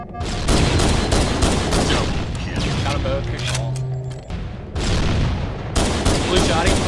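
Loud, rapid shotgun blasts and gunfire ring out in a multiplayer video game match, coming in dense bursts with a brief lull in the middle while players talk over the action.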